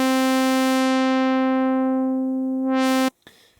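A sustained buzzy sawtooth synth tone whose brightness drains away as a low-pass filter closes, then briefly sweeps back open before cutting off abruptly.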